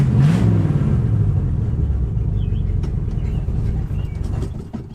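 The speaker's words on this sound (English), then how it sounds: "It's just idling super low for some reason." Ford Galaxy that sat parked for five years, its engine idling unusually low nearby: a steady low rumble with a brief rev at the start, then an even, slightly uneven churn, no voices.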